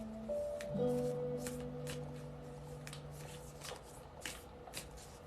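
Tarot cards shuffled with soft rapid riffles and flicks, close by, while a faint tone hums in the background.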